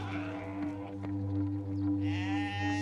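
Goats bleat in a herd kept near gold mine tailings east of Johannesburg, South Africa, with a steady low drone running underneath. Several calls overlap, and a louder, nearer bleat rises toward the end.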